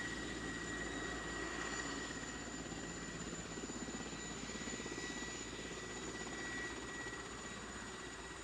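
Steady, loud whirring drone of a helicopter in flight, a continuous rotor and engine roar with no talking.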